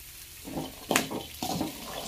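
Boiled chickpeas frying in a pan, with a few soft bursts of sizzling and stirring scrapes and a sharp clink of a utensil.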